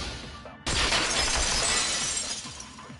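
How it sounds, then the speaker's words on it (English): A vase shattering in a video game, a sudden loud crash of breaking glass-like shards that bursts in and scatters into a fading tinkle for a few seconds. "If it wasn't the window, then what broke to make that sound? A vase."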